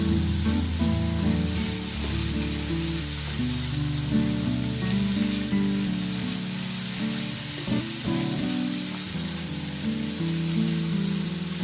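Chicken fry sizzles loudly and steadily in hot oil in a pan as its moisture cooks off, with a short stirring scrape partway through.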